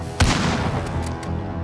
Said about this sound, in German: Verbündeter Präzisionsluftschlag im Anflug!